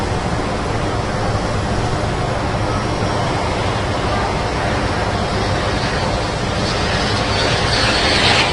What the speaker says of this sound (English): Red 8's coming into land on the right.